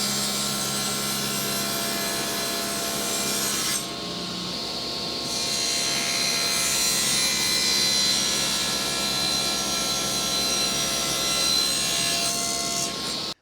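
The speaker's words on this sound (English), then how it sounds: "Now I need to cut a top to go on here. I got to cut a miter all the way around on this." A power saw cuts miters in wood for a small box top, running with a steady close whine that pauses briefly, then resumes through a long continuous cut before stopping.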